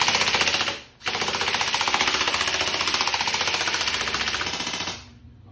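An E&C 620 black airsoft M4-style rifle firing on full auto: two rapid mechanical bursts of clattering shots, a short one then a long sustained run of about four seconds, close and loud.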